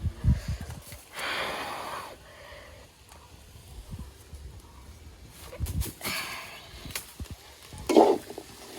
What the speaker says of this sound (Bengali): ভাজা চিরা হয়ে গেছে